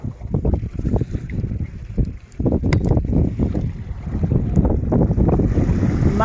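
Mediterranean Sea waves at Palavas, France, a steady wash of surf breaking near the shore with heavy wind buffeting the microphone throughout.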